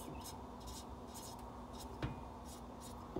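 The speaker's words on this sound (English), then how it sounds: "I'll write on there" A pen or marker writes on a classic Volkswagen cylinder head, making short, faint scratchy strokes in bursts, with a couple of small taps and no talk.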